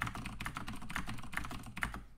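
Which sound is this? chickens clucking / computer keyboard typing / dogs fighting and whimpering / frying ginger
computer keyboard typing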